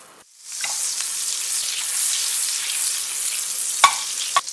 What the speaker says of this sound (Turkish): Ben tavamın üzerine bir tatlı kaşığı kadar tereyağı alıyorum ve tereyağı eritiyorum.